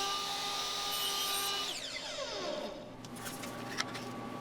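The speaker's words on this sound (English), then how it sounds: "And then trim off the excess over at the miter saw." A miter saw trims excess wood off a small piece for a woodworking indicator switch, its whining motor spinning down after the cut, then a few faint knocks and handling sounds follow.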